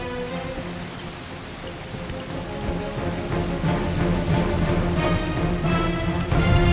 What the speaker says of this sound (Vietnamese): Úi dồi, trời mưa to quá.